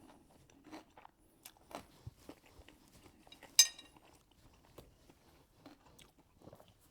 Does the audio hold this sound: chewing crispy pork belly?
yes